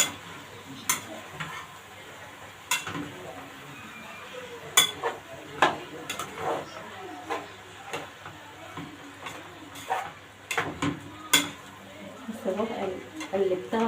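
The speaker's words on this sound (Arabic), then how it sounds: "هقلبها بقى مع بعض" Colored peppers, onions and tomatoes are stirred in a pan, with scattered scraping and clinking of a utensil against the pan over a soft sizzle while someone talks.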